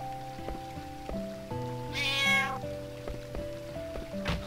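A cat in the video game Final Fantasy IX meows once, clearly, over a plucky melodic game music loop with soft rain-like patter.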